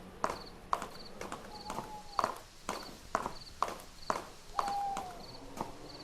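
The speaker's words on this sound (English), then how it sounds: "Okay, so let's get off the horse here." Horse hooves clip-clop at a walking pace while riding in a video game, a steady series of sharp knocks with occasional tonal game effects in the background.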